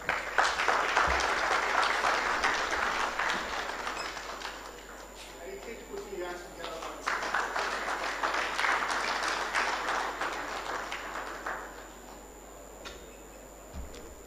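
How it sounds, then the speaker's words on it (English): An audience at a health training institutions dialogue claps in a long round of dense, close applause, easing midway, rising again and then tapering off toward the end. "Some of you are acting like someone would ask you to pay for every clap you're making."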